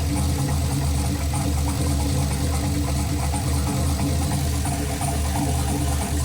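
A turbocharged LS engine in a Chevelle idles at its first start-up, rough and steady with a dense low rumble and constant mechanical whir, close and loud throughout with no pauses.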